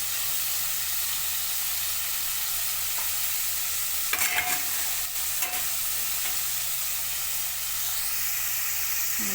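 Dried fish frying in a pan to a medium level for a Sri Lankan-style curry gives a steady close hiss and sizzle, with a few brief clatters of stirring near the middle and no talk.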